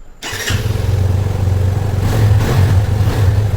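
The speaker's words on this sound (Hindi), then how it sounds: "स्टार्ट पहले आप एग्जॉस्ट सुन लो। एग्जॉस्ट इस गाड़ी की बहुत ही अमेजिंग है।" A 2020 Yamaha FZ25 BS6 motorcycle starts up on its stand and settles into a loud, close exhaust note with a deep, steady throb, swelling in a couple of short revs before easing back to idle.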